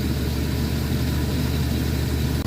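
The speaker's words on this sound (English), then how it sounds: "Idle engine." A car engine idles steadily at close range, a continuous low rumble with no talking.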